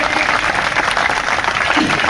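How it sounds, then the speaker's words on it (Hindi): A crowd claps in a dense, steady burst of applause, loud and close throughout, with faint voices mixed in. "अभी आपके बीच में भाई रवि आजाद जी, आप एक बार इनका ताली बजा करके स्वागत करिए।"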